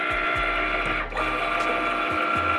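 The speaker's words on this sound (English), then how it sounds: "the Cricut cut button is blinking. We're going to click that, and now our project is going to begin cutting." A Cricut cutting machine cuts a dog bandana project with a close mechanical whirring hum, small rhythmic motor pulses and a brief dip as the carriage changes direction.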